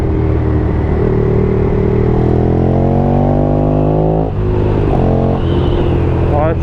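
A Ducati Streetfighter 1098 S motorcycle accelerating hard through the gears, loud and close from onboard, its engine note climbing in rising sweeps, dropping at a shift, then pulling up again, with a rider's voice mixed in.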